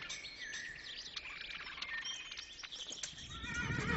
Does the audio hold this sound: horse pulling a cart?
yes